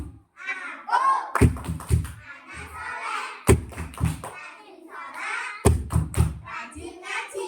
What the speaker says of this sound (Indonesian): ayo kita tepuk bersama-sama. Tepuk anak soleh